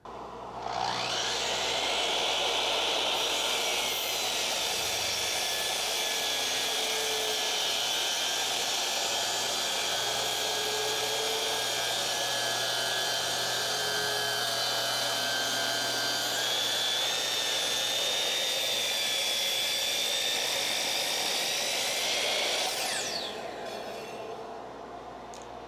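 All-in-one woodworking machine with its saw running, a loud continuous motor whine and high blade hum that spins up, holds steady for about twenty seconds with slight pitch wavers, then winds down at the end, with no talking.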